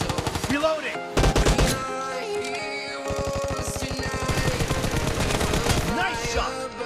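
Gunfire in the mobile game PUBG Mobile, team deathmatch mode, crackles in rapid automatic bursts, with a dense volley early on and a longer string of shots later, layered over steady game tones and a little background voice.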